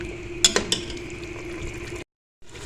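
Meat and masala fry in a pan for kachnar gosht, giving a steady close sizzle with a few sharp clinks of a spoon against the pan. The sizzle cuts off near the end and then returns.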